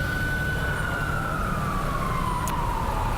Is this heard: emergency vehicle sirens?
yes